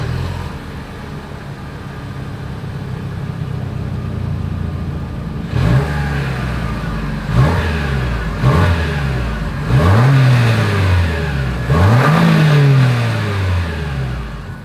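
A 2023 Lexus RX 350's exhaust revs in four or five sharp rising blips over a steady idle, each climbing and falling back, loud and close.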